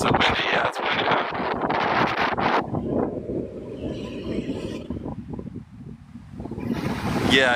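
Wind gusting across a beach near Hoi An, a broad rushing roar buffeting the microphone, strongest in the opening seconds and again at the end, with a quieter lull between.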